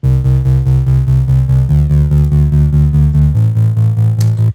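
Future bass bass line fattened with Sausage Fattener distortion and pumped by LFO Tool sidechain, rhythmic ducking pulses stepping through three pitches, loud and alone, ending abruptly.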